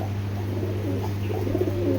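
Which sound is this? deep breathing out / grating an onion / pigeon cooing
pigeon cooing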